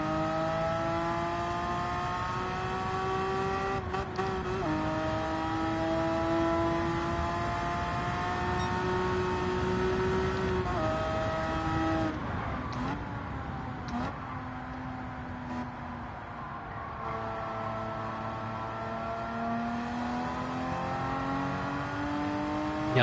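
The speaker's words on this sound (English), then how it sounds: "I'll just go and do a bit of a lap with the car." A car on street tyres runs a lap in a driving video game, its engine droning and revving continuously with rising and falling pitch through gear changes. No voices are heard.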